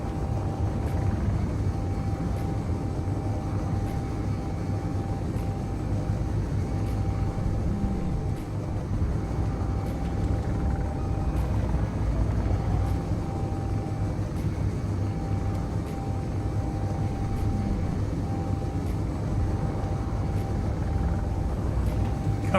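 In the Space Engineers video game, a spacecraft lifts off with a continuous low engine roar and rumble that stays steady and loud for over twenty seconds, with no voices.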